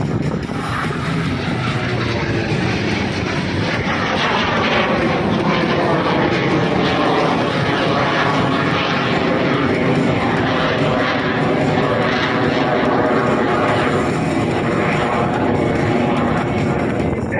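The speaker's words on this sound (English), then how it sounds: "Now we're going to see that incredible rate of climb from the Yak 110." A loud, continuous Yak 110 aerobatic plane engine drones and whines at an airshow, its pitch slowly shifting as the plane climbs, with no other sounds over it.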